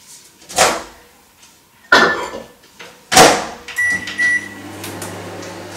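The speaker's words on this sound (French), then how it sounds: "Je mets le chocolat donc 2 minutes au micro-ondes." A few sharp knocks like a door clicking shut and buttons pressed, then a steady low hum with faint beeps as a microwave starts running to melt chocolate.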